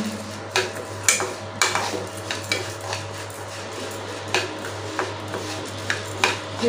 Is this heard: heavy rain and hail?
no